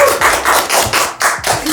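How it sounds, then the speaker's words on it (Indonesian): Clapping in a small studio as two guests are welcomed, a dense burst of handclaps from a few people that rises and falls in waves for under two seconds, with no talking over it. "Tepuk tangan dulu."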